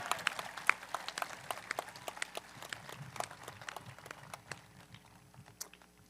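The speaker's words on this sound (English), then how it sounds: "Could I please have one more round of applause for Team Atlas," Scattered, fairly distant applause from staff and students at an 8th grade celebration, sparse individual claps standing out from a thin crowd sound and gradually thinning out.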